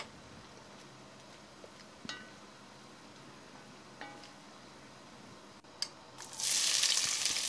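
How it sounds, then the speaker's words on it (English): Whole spices frying in ghee in a heavy-bottomed cast iron pot: a few faint clinks over a quiet background, then a loud, steady sizzle bursts up near the end. "Then add the whole spices into the pot and give them a stir"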